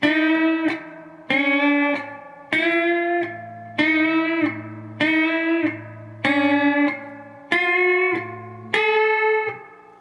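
Electric guitar with distortion and chorus runs through the full four-part verse riff once at real speed, eight evenly spaced phrases of ringing notes in a steady pulse, loud and close, alone.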